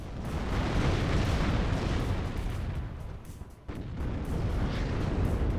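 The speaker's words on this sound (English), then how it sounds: "Oh, artillery pieces in now. What's it firing at?" Artillery firing in the video game WARNO, a dense, loud, continuous barrage of booming blasts that briefly dips and then surges back, with no voices.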